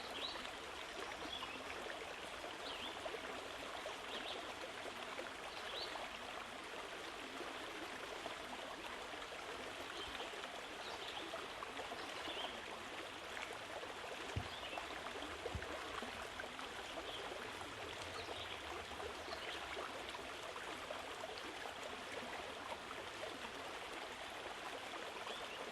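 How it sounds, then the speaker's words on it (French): River water sliding gently over small dams, a soft, steady, fairly faint wash that holds unbroken throughout. "Je peux regarder l'eau qui glisse doucement de l'autre côté de ces barrages."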